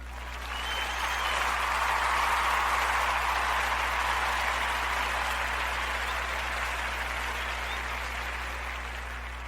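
Applause from an audience, a steady dense wash of clapping that holds evenly for several seconds before easing slightly, with no voices over it.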